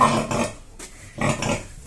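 Pigs grunt close by in a backyard sty with a veranda being built, several loud rough grunts in quick succession, with no talk.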